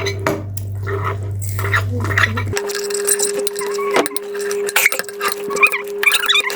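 Homemade foam slime made with shampoo being stirred, giving soft squishy, wet scraping and clinking sounds against the bowl, close and continuous, with a steady tonal hum running underneath throughout.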